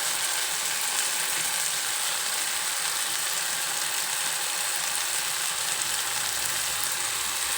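A broad bean curry fries in a pan as chili powder goes in, giving a steady, loud, unbroken sizzle close up with no talk over it.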